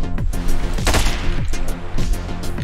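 Gunfire in the top-down shooter Hotline Miami 2: rapid, dense bursts of shots follow one another without pause across a couple of seconds, loud and close, with no talking.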